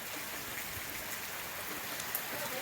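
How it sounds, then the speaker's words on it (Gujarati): Heavy rain falls continuously, a steady, even hiss of water on surfaces heard at moderate distance with no voices. "ચાલુ થઈ ગયો છે એક ધારો, બંધ થવાનું કે નામ જ નથી લેતો. વરસાદ કારનો ચાલુ થઈ ગયો છે."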